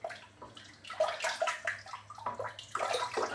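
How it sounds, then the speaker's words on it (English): Running water splashing over a bar of shaving soap being rinsed clean, a steady close gurgle and patter with uneven surges as the soap is turned under the stream. "Just rinsing the soap and getting it nice and clean"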